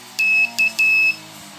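A low-cost CW key sends the Morse letter K as three clear electronic tones, long, short, long, over a faint low background hum.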